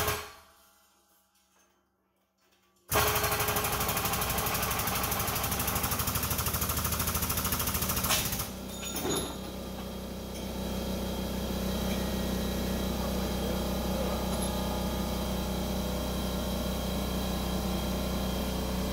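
A hydraulic press forces a finicky crush sleeve eliminator part off, a loud steady mechanical roar with heavy low rumble starting abruptly after a quiet moment, a sharp bang or knock partway through, then continuing strained droning.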